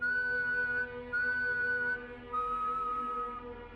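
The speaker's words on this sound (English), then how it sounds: "3 long whistles" Three long, steady whistled tones heard at night from a front porch, each held for about a second with short gaps between them, clear and fairly close against a low background hum.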